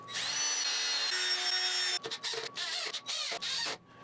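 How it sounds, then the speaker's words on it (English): A power drill bores axle holes through the wooden parts of a handmade step stool, a steady high whine for about two seconds, then several shorter bursts of drilling separated by brief pauses, with no talk. "and I drilled out the holes for the axle"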